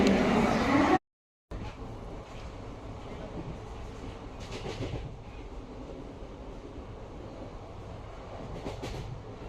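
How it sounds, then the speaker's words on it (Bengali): Night passenger train running after leaving Howrah station, a steady low rumble and rattle heard from inside the carriage with faint rhythmic clacks, following a short loud burst and a moment of silence at the start. "চলো, তো ট্রেন ছেড়ে দিয়েছে এখন"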